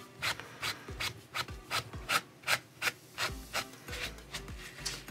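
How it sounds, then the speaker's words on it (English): Metallic Rub n Buff wax is rubbed by hand onto a 3D-printed part in about a dozen light, even strokes, each a soft, close, dry brushing rasp with short pauses between. "So I am just lightly, very lightly rubbing this on."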